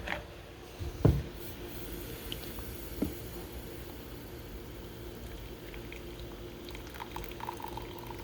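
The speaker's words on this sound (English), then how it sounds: "Our coffee, nice and warm." Coffee boiling in a pot on a fishing trip in Tennessee, a steady low bubbling simmer with a couple of louder knocks early on and no talking.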